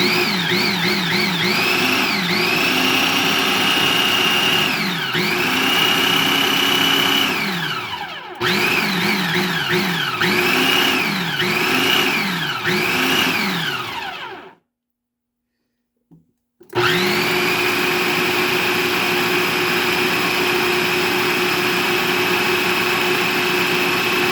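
A blender whirs loudly mixing a homemade electrolyte drink, its motor rising and falling in pitch through several pulses, then cutting out briefly into silence before starting up again and running steadily.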